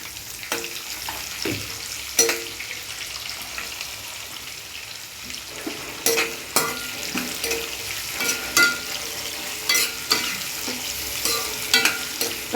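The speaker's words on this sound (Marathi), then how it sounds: "कांदा चांगला परतून घ्यायचा आपल्याला." Chopped onion sautéing in a pan for lemon rice, a steady soft sizzle punctuated by irregular sharp clicks and scrapes of a spoon against the pan, close and fairly loud, without talk.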